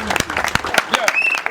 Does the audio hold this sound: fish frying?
no